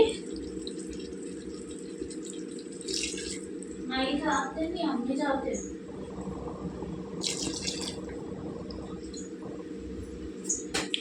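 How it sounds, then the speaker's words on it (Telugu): Hot water pours and splashes into a pot of cooking meat for biryani for a few seconds, with faint clinks and a low background hum. "ఇందులో వేడి నీళ్ళు వేసుకుందామండి"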